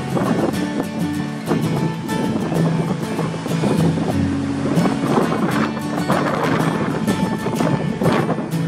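Strong onshore wind buffets a camera microphone at a surf beach with dumping, waist-to-chest-high waves at about 6°C, a constant low roar mixed with breaking waves, loud and continuous throughout.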